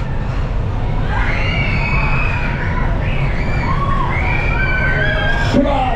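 Riders on a Waltzer at a funfair in Derby shriek and cheer as one loud, continuous crowd din with rising and falling screams over dense rumbling ride noise.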